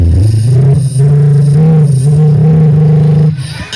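A voice imitates an armored vehicle engine with a steady, loud, low rumbling drone that holds for a few seconds, then cuts off.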